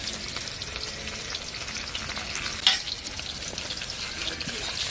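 Tangra fish fry in oil in a pan with a steady, close sizzle and crackle throughout, plus one brief sharp clink near the middle.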